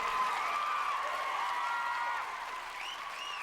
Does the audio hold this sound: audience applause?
yes